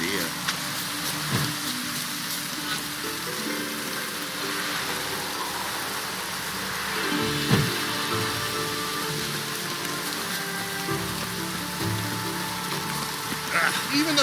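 Steady rain falls in a video game, a constant dense patter on surfaces with low rumbling underneath, continuing evenly throughout while game sounds and voices come and go over it.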